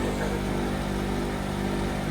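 A nearby engine runs at a steady, even hum at an outdoor market, a continuous low drone with no changes in pitch or speed.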